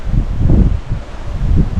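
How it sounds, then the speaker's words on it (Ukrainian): Steady wind buffets the microphone with low, rumbling gusts that swell and ease, a rough, continuous roar close to the mic, during a storm with rain and strong waves on the Dniester estuary. "Дощ, вітер, хвилі сильні."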